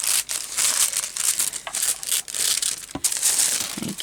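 Paper being torn and crinkled by hand during a shaker card craft project, a steady close rustling with sharper ripping bursts, no talking.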